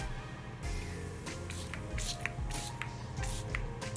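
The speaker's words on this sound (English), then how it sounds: "So I'm just gonna spray my face to set it." Several short bursts of makeup setting spray from a small perfume-style bottle hiss onto a face, spaced roughly half a second apart, over a low steady background hum.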